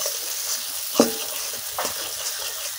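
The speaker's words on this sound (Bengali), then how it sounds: "মশলাটা খুব সুন্দর ভাজা হয়ে গেল, ভালো গন্ধ বেরোচ্ছে এবং তেল ছেড়ে দিয়েছে" Spice masala fries in oil for a Bengali-style duck curry, a close, brief crackling sizzle with a couple of stirring scrapes over constant frying hiss.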